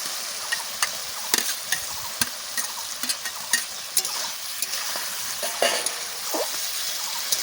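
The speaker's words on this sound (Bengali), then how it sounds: "ভালো করে আমার মশলাটা ভাজা হয়ে গেল কষানো হয়ে গেল" Spice paste for a pointed gourd and rice dish is stir-fried in a pan: a close, steady sizzle broken by frequent sharp scrapes and taps of a spatula against the metal.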